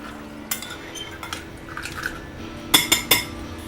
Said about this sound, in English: Mix the cinnamon in it right.